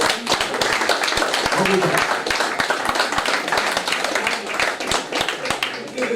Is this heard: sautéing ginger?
no